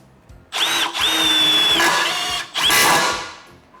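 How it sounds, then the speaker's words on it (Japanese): A Milwaukee M12 FQID impact driver drives Tek self-drilling screws in three close, loud bursts of whirring, hammering rotation, separated by short pauses. "このようなねテクスビスを打ちます。"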